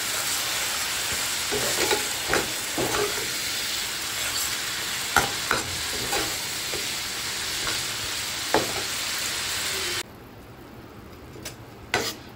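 Spice paste thinned with water is stirred in a pan for a Makha Pabda fish dish, a steady loud sizzle with scraping spoon strokes at irregular intervals, dropping to quieter bubbling near the end.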